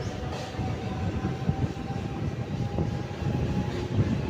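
A MEMU passenger train running on the Karimnagar–Sripur line near Ramagundam makes a steady rumbling roar with rattling and faint squeals, heard close from inside the moving train.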